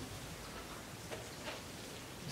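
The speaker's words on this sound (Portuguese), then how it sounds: "Só escuta a chuva, né?" Steady rain falls as a soft, even hiss of drops with no other sound, faint and constant throughout.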